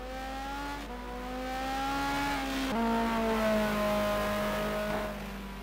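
Race cars finishing a sim racing game lap, including a yellow BMW M3 and a Ferrari 458 Italia: a steady high-pitched engine whine that shifts pitch and swells slightly as a car passes, fairly faint.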